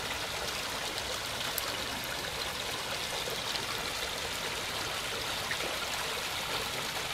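Storm rainwater rushing like a stream through a flooded park in central Foggia during a violent downpour, a loud, constant broadband roar of flowing water that stays close and steady throughout.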